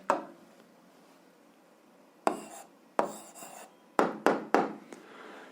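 Pen or chalk writing an answer during a maths lesson: scattered short scratchy strokes, a single one at first, then several quick bursts close together near the end, with quiet between them.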